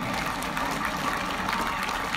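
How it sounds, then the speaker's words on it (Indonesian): Applause at an Indonesian Independence Day ceremony marking the Republic's 79th anniversary, a steady, dense wash of clapping from a large outdoor gathering that holds evenly loud throughout without a break. "Beri tepuk tangan dulu untuk ini."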